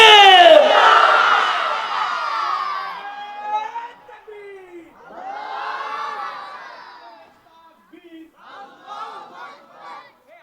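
Large crowd at a nighttime Islamic waz gathering shouting a takbir chant in loud massed bursts, a big swelling roar first, then two further shorter rounds of collective shouting separated by brief pauses.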